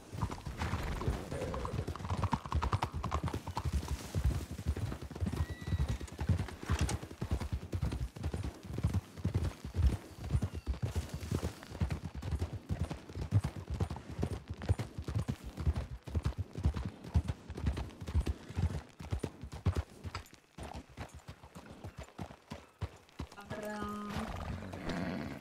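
Horse hooves clip-clop steadily as a horse is ridden in a 1920s-era roleplay video game, with a brief whinny, the rhythmic hoofbeats continuing throughout at moderate loudness.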